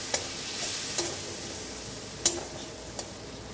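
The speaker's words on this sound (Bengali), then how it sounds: "এবার মশলাটাকে কষাবো" Spice paste with turmeric and mustard powder frying for a fish curry: a soft continuous sizzle with a few sharp spoon scrapes against the pan, quiet and near.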